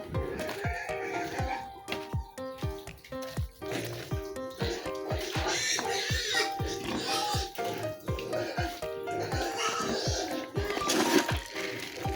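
Pigs at feeding time on a farm as Pigrolac feed is given, with loud grunts and squeals, clattering and knocking mixed with people talking throughout.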